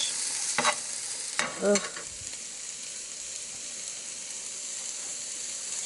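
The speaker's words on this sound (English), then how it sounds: "I'm just, stir frying these a little bit." Asparagus stir frying in a pan, a steady broadband sizzle throughout, with a few clatters and stirring scrapes near the start and a brief muttered voice.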